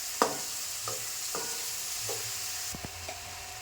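A spatula stirs chopped cucumber and tomato in a pan, giving a few soft, separate scraping strokes with a light sizzle under them, quiet and close, with no voices.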